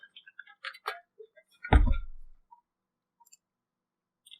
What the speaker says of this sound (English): Fuck alarm clock.